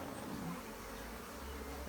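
Honeybees buzzing at a hive with freshly drawn foundation comb, a faint, continuous close drone with a low hum under it and no break.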